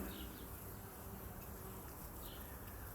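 A dense, continuous hum of bees buzzing all around blossoming lemon trees, steady and fairly close, with no voices.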